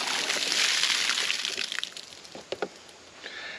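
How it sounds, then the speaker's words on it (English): Water drains and sloshes out of a bowl of soaked, starchy sliced potatoes, a close gushing pour that thins into scattered drips and small splashes. "And we're just gonna drain the rest of our water out here."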